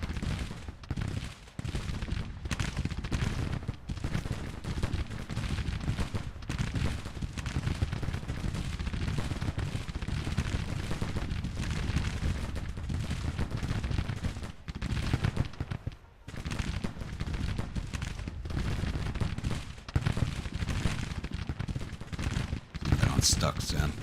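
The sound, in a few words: gunfire in the video game Grand Tactician: The Civil War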